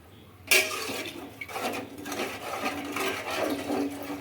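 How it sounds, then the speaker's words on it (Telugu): Water gushes suddenly into a metal pot for cooking basmati rice, then keeps pouring in a splashing, uneven stream for several seconds. "ఒకటికి రెండు గ్లాస్ అయితే వేసుకుంటున్నానండి నేను ఇక్కడ వాటరు"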